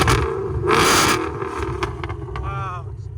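Supercharged 770 hp Ford Mustang GT 5.0L V8 with Valvetronic exhaust valves open, a close, loud rev that swells briefly then settles into a rough idle, with people talking over it.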